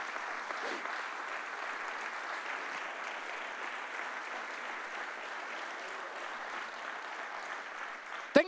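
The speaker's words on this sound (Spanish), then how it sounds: "dele un fuerte aplauso a Jesús" A church congregation applauds steadily and evenly for several seconds, a dense wash of clapping at moderate distance that ends with a sharp knock.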